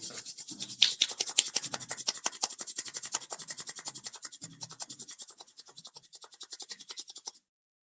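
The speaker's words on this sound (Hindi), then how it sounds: "हथेलियों को रगड़िए" Palms rub briskly back and forth during a yoga session, making a close, dry, hissing swish that repeats in a steady rhythm for several seconds and then cuts off abruptly.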